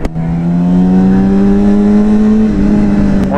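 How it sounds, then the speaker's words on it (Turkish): A loud motorcycle exhaust revving close by on a city street, its steady droning pitch climbing slowly then dipping, with a brief rise near the end. "Motorun egzozu suratıma tokatlıyor ya. Güzel egzoz ama değil mi?"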